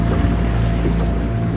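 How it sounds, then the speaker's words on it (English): A boat runs over choppy sea water off Gozo, Malta, with a loud, continuous low engine rumble, water churning against the hull and wind buffeting the microphone. "Can you just show them how choppy the water is?"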